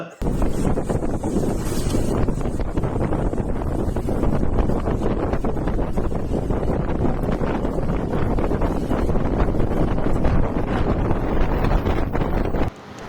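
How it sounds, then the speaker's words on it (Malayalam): Strong wind buffets the microphone at a hilltop viewpoint at Ramakkalmedu in Idukki, a loud, unbroken roar that rushes on for over twelve seconds before cutting off abruptly. "നല്ല കാറ്റടിച്ച് കയറുന്നുണ്ട്."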